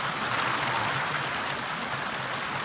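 Mountain spring water in Uttarakhand flowing straight off the hillside, a steady, close broadband rush and trickle that holds even throughout, with no voices over it.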